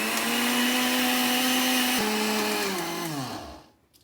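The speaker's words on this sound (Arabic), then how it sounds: "هذا الخلاط الكهربائي ديروه على السرعه ديالو كامله" An electric blender runs at full speed mixing oil into mayonnaise, a loud steady whine whose pitch drops in steps before the motor winds down and stops.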